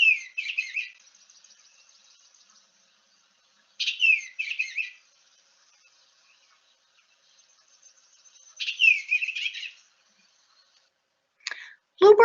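Recorded song of a male bluebird: short warbling phrases repeated at intervals of a few seconds, clear and isolated against silence, with faint chirps between phrases.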